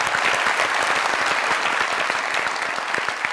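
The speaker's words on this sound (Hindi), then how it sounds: "हम जरा जोरदार तालियां।" Loud, dense applause from a studio audience on a comedy talk show, a continuous roar of many hands clapping nearby with no break for the whole stretch.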